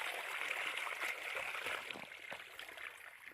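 Cold water gushing steadily from a solar-powered borewell on a farm, a continuous splashing flow that stays fairly loud and close throughout, with no talking.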